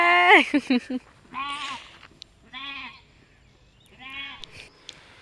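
Lamb and sheep bleating in a series of close, wavering calls, several short cries followed by longer drawn-out bleats with brief pauses between, no talking.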